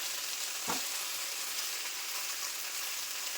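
Chicken in a spicy bird's-eye chili preparation sizzles and fries in a pan with a constant soft hiss, and a single clack of a spoon sounds as it is stirred and turned.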